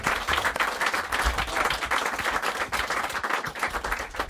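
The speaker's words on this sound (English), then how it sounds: "Give him a big round of applause." Sustained studio audience applause on a TV comedy panel show, a dense, steady wash of many hands clapping at close range with no talk over it.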